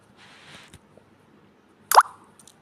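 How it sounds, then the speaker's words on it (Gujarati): Marinated paneer dropped into a pan for kaju paneer masala lands with one sharp, close plop and a short splatter, after a soft earlier rustle of spooning and a few faint clicks. "પછી મેરિનેટ કરેલું પનીર એડ કરશું।"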